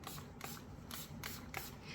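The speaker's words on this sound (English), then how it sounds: "Let's spray again because I've got lots of bubbles there." Several quick hissing bursts from a spray bottle spraying alcohol onto resin bubbles, pumped in an uneven rhythm, close and fairly quiet.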